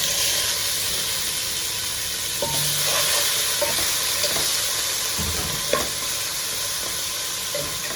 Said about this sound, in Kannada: ಈಗ ನೀರುಳ್ಳಿ ಬ್ರೌನ್ ಕಲರ್ ಬಂದಿದೆ, ಟೊಮೆಟೊ ಹಾಕ್ತಾ ಇದ್ದೇನೆ